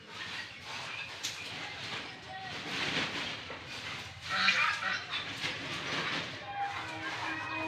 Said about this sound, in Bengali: ওই দেখো রাজাহাঁস, ওই যে রাজাহাঁস যাচ্ছে